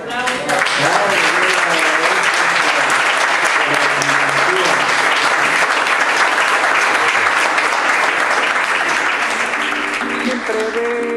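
A talk audience applauds warmly and continuously for about eleven seconds, with some voices and background tones mixed under the dense clapping.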